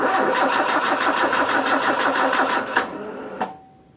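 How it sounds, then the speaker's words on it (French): A car engine cranks with an Aukey 12000mAh jump starter booster, a fast steady rhythmic whirring of the starter for nearly three seconds that never catches, then stops with a couple of clicks and fades to silence. "on va essayer au maximum de démarrer la voiture"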